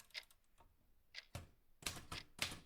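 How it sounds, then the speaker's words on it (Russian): Typewriter keys on a manual machine clatter in short irregular bursts of dry clicks and taps, fairly close and quiet, alone without talk, as a sound effect in a radio drama. "Клавиши машинки издали сухой нервный щелчок."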